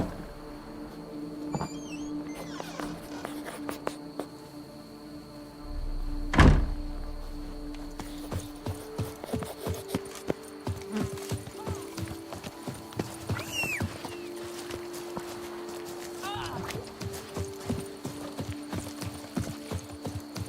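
Clip-clop of the horse Roach's hooves in The Witcher 3, a steady trotting rhythm that runs throughout, with a heavy thud partway through and game music in the background.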